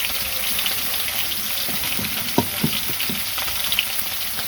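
Small bony fish fry in a pan of oil with a constant close sizzle, broken by a few soft knocks from stirring.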